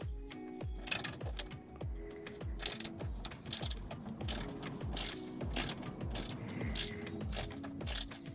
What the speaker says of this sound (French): Un petit cliquet ici, ça passe comme ça.